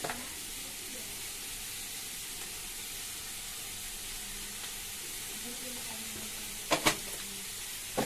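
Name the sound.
cabbage frying in pan with turmeric and salt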